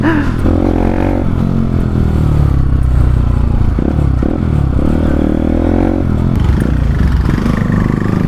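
A motorcycle fitted with a replacement exhaust revs loud and close, its engine roar rising and falling in repeated throttle blips over a constant rumble, with no one talking.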